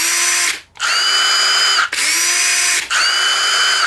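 A DeWalt cordless drill runs at speed 2 in three loud, steady whirring bursts separated by brief stops, close up with no talk.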